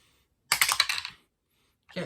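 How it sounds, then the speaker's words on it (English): Village dice rolled for the Creature Comforts board game on a tabletop: a quick rattling clatter of several dice tumbling and settling, then a brief second knock, close and fairly quiet with no talk. "we will roll the village dice now"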